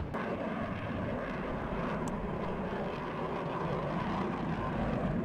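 A military helicopter in the Cold War strategy game WARNO makes a steady, loud rotor and engine drone that fills the whole stretch without pause, with no talking over it.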